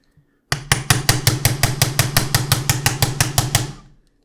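About fifteen quick, evenly spaced hammer blows strike a punch to seat a CSR Precision ACR adapter into a SIG SG55x rifle, sharp metallic hits sounding loud and close, then tapering off.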